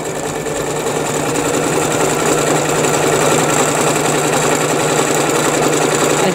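A sewing machine runs steadily at close range, zigzag stitching ribbon onto fabric with a continuous, even mechanical whir and no talking.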